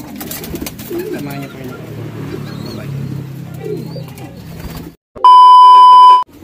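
Racing pigeons coo softly in low murmurs while being placed into a basket, with a voice speaking over them, then an electronic beep tone near the end.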